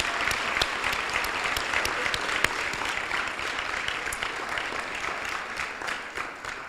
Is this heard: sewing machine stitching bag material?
no